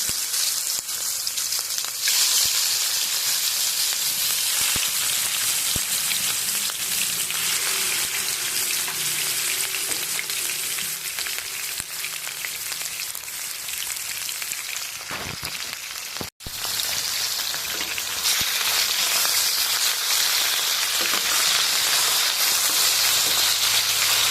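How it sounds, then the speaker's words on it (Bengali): Bhola fish frying in hot mustard oil, a loud steady sizzle and crackle that runs unbroken throughout, with a brief pop partway through. "তেলটা গরম হয়ে গেছে, ভেজে নেব মাছগুলো।"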